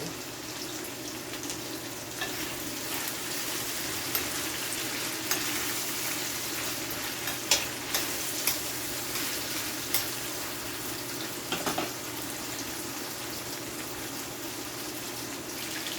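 Coconut oil frying in a pan for a Jamaican-style saltfish cook up, a steady close sizzle and crackle running throughout, with occasional sharper pops and stirring clicks, and no talking.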